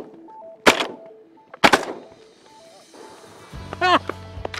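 Two loud, sharp shotgun blasts go off about a second apart during a duck hunt in Argentina, each with a short echoing tail over outdoor background noise, followed by a voice speaking and a low droning hum.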